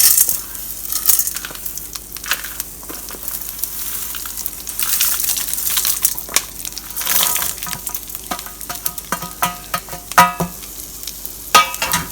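Coriander seeds frying in oil in a pan over a low to medium flame for South Indian sambar make crackling and sizzling sounds. Sharp scraping and stirring clicks recur throughout, with no talking.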